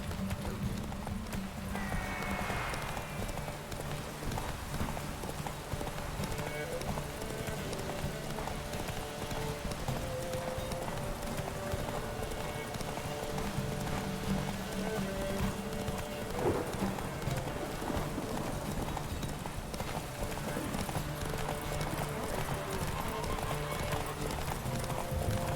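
Horse hooves clip-clopping steadily in a video game race, the mount only walking at an even pace under a continuous backdrop of game ambience, with a brief whinny early on and no speech.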